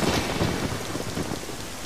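Heavy rain pours steadily in The Legend of Zelda: Ocarina of Time, a dense, loud hiss of falling water with a low rumbling undertone, continuous and even throughout with no voices.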